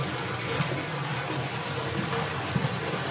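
Water from a swimming pool filter backwash gushes in a steady, continuous rush, moderately loud and unbroken throughout, with no voices over it.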